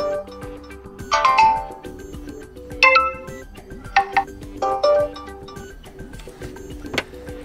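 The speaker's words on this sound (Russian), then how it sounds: "И также можем изменить мелодию уведомления." Several short notification melodies play on a Motorola Moto E7 Power phone, bright chiming tone bursts previewed one after another with brief gaps, close and clear.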